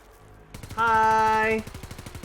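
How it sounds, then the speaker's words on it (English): Rapid automatic gunfire from the Warframe video game, a steady, fast train of shots running through most of the stretch, with a loud, sustained tonal whine rising over the shooting midway. "Is someone shooting at me?"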